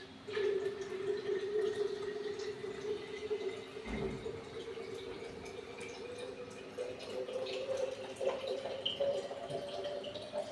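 Water running steadily into a bottle, a faint, continuous trickle and fill lasting throughout with a light knock partway through, no voices.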